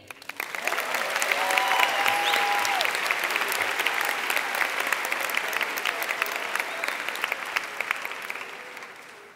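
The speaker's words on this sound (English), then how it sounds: "I want you to give yourselves a round of applause because class of 2015," A 2015 high school graduating class gives itself a round of applause at its graduation ceremony. Dense, steady clapping from a large crowd fills the whole stretch, with faint voices mixed in.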